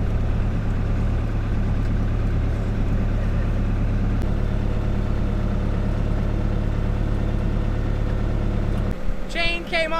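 Tractor engine running steadily while pulling a vegetable transplanter in a field, a continuous low heavy drone throughout, with a brief disturbance near the end.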